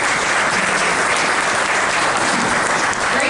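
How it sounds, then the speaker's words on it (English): A crowd at a cannabis industry gathering gives a speaker a round of applause, a loud, dense, unbroken patter of clapping that holds level from start to finish. "So, a round of applause for Andre."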